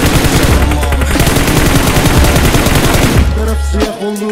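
Rapid, loud bursts of automatic gunfire ring out in a shooter video game over a pounding music track, then thin out near the end.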